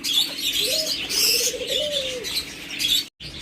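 Pet birds at a bird seller's shop chirp, tweet and coo close by, with overlapping calls and brief wing flutters and no talking.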